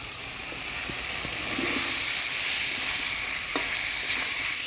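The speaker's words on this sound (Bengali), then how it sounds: "ওল দিয়ে মশলার সাথে ভালো করে কষিয়ে নিলাম" Elephant foot yam frying with spices in a pan, a steady close sizzle and hiss with occasional soft stirring knocks, no voices.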